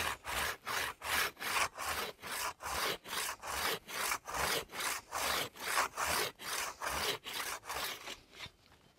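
A pruning saw cuts through a tree limb outdoors, with about seventeen rhythmic, rasping back-and-forth strokes, loud and close, that slow and fade at the end.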